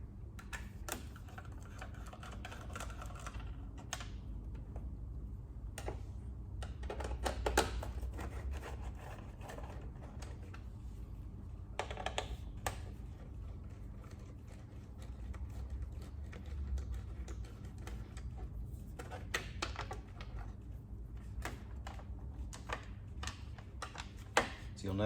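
T25 Torx screws are backed out of the fairing of a BMW K1600B with a driver, giving soft, close, irregular clicks and ticks over a low, quiet background hum, with no talking.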